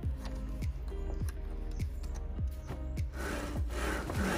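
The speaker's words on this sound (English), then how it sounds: "To enable it to slide along, you can undo this." Repeated sliding scrapes of a compound mitre saw head moving back and forth along its metal rails, about a dozen short strokes in a steady rhythm, close and fairly quiet.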